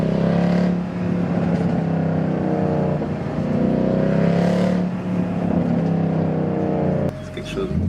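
A Mercedes C63 AMG V8 engine rumbles and revs loudly in a city street, the deep exhaust note swelling and falling, with people talking over it.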